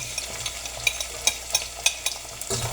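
Garlic and onion sizzle in a frying pan as they are stirred, with a steady fry hiss under a run of quick scraping stirs and clinks spaced about every third of a second.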